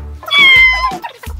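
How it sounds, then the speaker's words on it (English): A Bengal cat gives one drawn-out, clear meow, close and loud, followed by softer shorter cat vocal sounds. "We have a Bengal cat."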